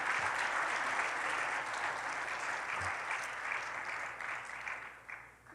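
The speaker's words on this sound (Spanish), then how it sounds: "Un aplauso al Señor" A church congregation applauds together in a steady burst of clapping that holds for several seconds and then tapers off at the end.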